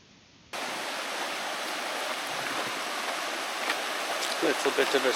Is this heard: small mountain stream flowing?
yes